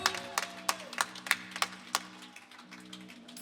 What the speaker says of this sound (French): je voudrais vous demander, s'il vous plaît, d'applaudir tous les bénévoles